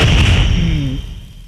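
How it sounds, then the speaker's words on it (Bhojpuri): A single loud gunshot from a Bhojpuri action film scene, a booming close blast that rings out and fades over about a second, with no talk over it. "रामायण साला दोगला पुलिस वाले पे गोली चलाता है"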